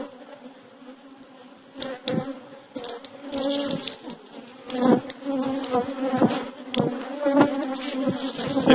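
Honey bees buzz steadily through a beehive inspection, a dense droning swarm with brief louder swells as insects fly close past, growing busier toward the end.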